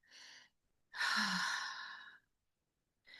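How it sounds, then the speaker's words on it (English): A person takes a deep, slow breath, a soft breathy inhale followed by a long audible sigh-like exhale, close and quiet, with a second breath starting at the end. "take a deep breath with me"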